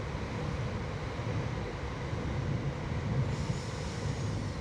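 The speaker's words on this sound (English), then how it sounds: "Whoa, here comes the train." A train rolls past near a stone bridge with curved arches during a bike ride around Sunbury, a steady broadband rumble with low rattling that holds loud and even throughout, with no talk over it.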